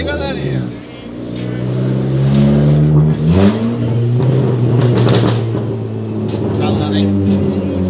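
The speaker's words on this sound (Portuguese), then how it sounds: "olha o barulho do Bravo" A stage 2 tuned 1.8 Fiat Bravo engine revs hard nearby with strong rising and falling pitch sweeps, dipping briefly before climbing again into a sustained loud roar.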